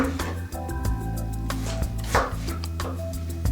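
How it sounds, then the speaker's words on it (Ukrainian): A knife slices a potato into thin slices on a cutting board, making a steady series of close, crisp chopping taps with no talking. "тільки тепер нарізаємо на тоненькі слайси"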